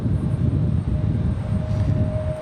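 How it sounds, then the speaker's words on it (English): A Delta CRJ regional jet, Endeavor flight 5400 from Cincinnati, arriving at Raleigh-Durham airport, with a steady broadband engine roar and a thin whine running throughout, fairly loud and with no talk. "Looks like our next arrival is going to be a Delta CRJ"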